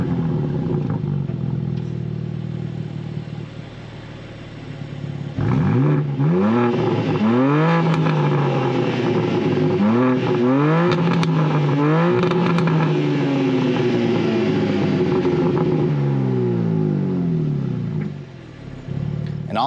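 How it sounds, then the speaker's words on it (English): A 2023 BMW M2 straight-six engine idles close by, then catches and roars through a series of sharp rising and falling revs, settling into a steady idle with a brief lull near the end. "fire it up so you can hear how it sounds"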